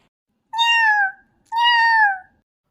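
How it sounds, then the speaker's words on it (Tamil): A cat meows twice while eating palkova, a milk sweet; each meow is clear, close and drawn out, with a short pause between them and no talk. "ஐயோ, பால்கோவா எல்லாத்தையும் பூனை சாப்பிட்டுட்டு இருக்கே."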